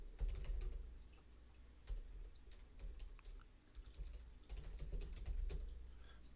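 Rapid irregular clicks of typing on a computer keyboard, close by and moderately loud, with uneven bursts of keystrokes over a low background hum and no speech.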